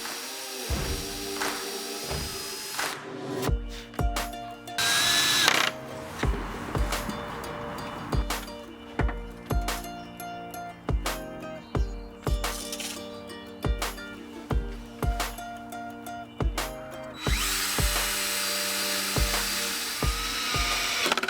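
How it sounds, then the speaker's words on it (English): A drill drives screws into the wooden slats of a child's clothes rail, with repeated short whirring bursts in a steady rhythm, close and clear, with no speech. "I screwed down the bottom slats and added a couple of screws at the apex of the legs for some more support."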